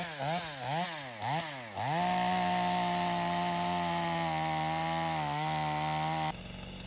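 A restored Stihl 025 chainsaw runs close by, first revved in several quick throttle blips, then held at a loud steady high-pitched drone that drops briefly near the end.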